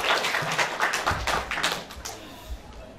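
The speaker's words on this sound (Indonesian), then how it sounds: "Tepuk tangan dulu dong." Applause from an audience after a school drama performance, a short burst of scattered clapping that thins out within a few seconds, with low voices murmuring underneath.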